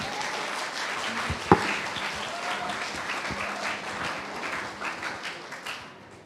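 A school club expo audience claps for the dance club coming to the stage, a moderate, steady round of applause with one sharp knock early on, fading toward the end.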